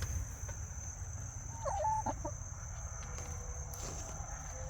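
Backyard chickens kept near a summer garden cluck softly in a short burst, faint beneath constant insect and cricket buzz outdoors.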